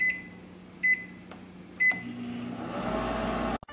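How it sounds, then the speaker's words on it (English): Three short beeps as a microwave oven's keypad is pressed, followed by the low steady hum of the oven starting to heat ice cream, which then cuts off abruptly. "I'm gonna put this ice cream in the microwave."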